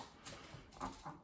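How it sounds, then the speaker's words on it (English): A puppy whimpers in short, faint bursts close by in a quiet room, a few soft whines and snuffles with nobody talking. "This is what happens when you got a pup."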